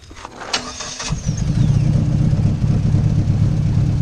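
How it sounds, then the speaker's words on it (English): Dodge SRT-4 car engine with an exhaust leak cranks and catches, then settles into a loud, rough, steady idle close by, with no talking. "Sounds like an exhaust leak."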